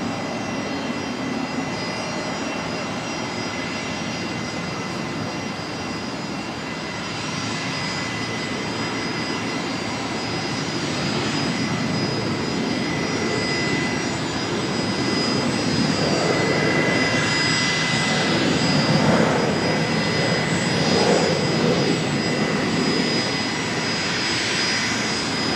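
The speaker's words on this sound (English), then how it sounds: "We've got a very noisy Fokker there doing some engine run-ups on the other side of the runway." A Fokker airliner doing engine run-ups about 1.4 km away across the runway at Brisbane Airport gives a steady, loud roaring drone with a high whine, swelling slightly toward the end and going on with no talk over it.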